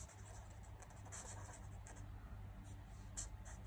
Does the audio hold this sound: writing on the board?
yes